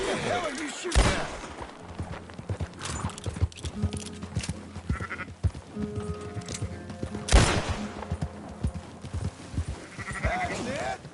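Two sharp gunshots ring out several seconds apart over a farm scene full of sheep bleating, hoof clatter and people talking.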